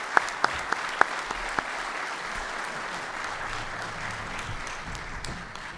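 Sustained audience applause thanking a Marine Corps flag panel at a conference, a dense even wash of clapping with a few louder nearby claps standing out at the start, running steadily throughout.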